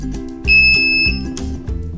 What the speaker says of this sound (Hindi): तो अभी आपको डबल अलार्म सुनाई दे रहा होगा।